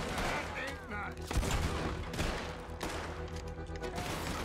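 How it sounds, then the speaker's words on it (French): Gunfire in Red Dead Redemption 2 coming from above, with several sharp overlapping shots and echoing cracks in quick bursts that form a short volley, mixed with game ambience. "Ça tire en haut."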